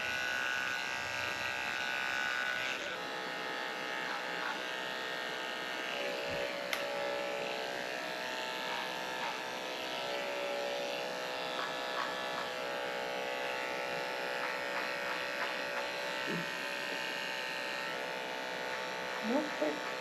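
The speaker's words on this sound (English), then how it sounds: "I'm going to shave out the corners of her eyes with the 40 blade very carefully." Electric dog clippers with a 40 blade buzz steadily while shaving the corners of a schnauzer's eyes, a close, continuous hum with slight changes in pitch as the blade moves, and a voice is heard occasionally.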